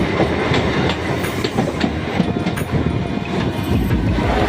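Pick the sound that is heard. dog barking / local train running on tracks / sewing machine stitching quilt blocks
local train running on tracks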